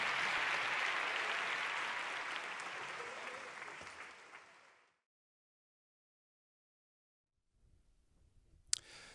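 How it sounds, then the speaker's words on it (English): A concert audience applauds young jazz musicians, loud dense clapping that fades out over several seconds, then near silence before a faint rustle and a sharp click. "Let's give these guys a big round of applause."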